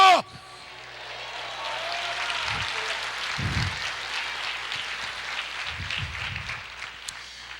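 Congregation applauding during a church service, a steady wash of clapping sustained throughout at moderate level, with a few low bumps and thuds underneath.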